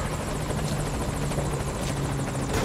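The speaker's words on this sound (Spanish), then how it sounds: "Han visto el helicóptero." A helicopter in Metal Gear Solid V: Ground Zeroes drones loudly and continuously, its rapid rotor chop pulsing steadily and close, filling the whole moment without any voices.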